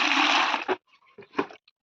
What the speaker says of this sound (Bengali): যে এখন জলটা ঢেলে দেবো।